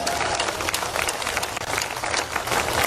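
Sustained audience applause at a Hindi poetry recital, a dense, steady wash of many hands clapping throughout, loud and close with crowd noise mixed in.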